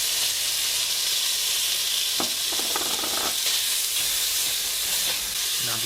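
Bacon fries in a pot for deer chili, a loud, steady sizzle and hiss that runs throughout, with a few soft stirring scrapes and clinks.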